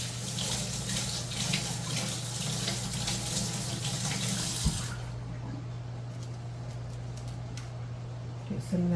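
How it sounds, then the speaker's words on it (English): Water runs steadily from a kitchen sink tap while hands are rinsed of oil, loud for about five seconds, then drops to a quieter trickle and fainter splashing. "let me rinse my hand off"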